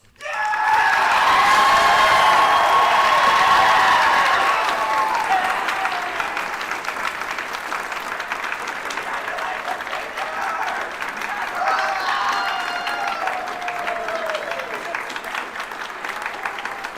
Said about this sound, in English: Could I get a round of applause?